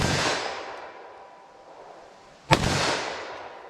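One sharp, loud pistol shot, a .357 SIG or 9mm round fired at a target on an outdoor range, cracks out alone and trails off in a broad echoing tail.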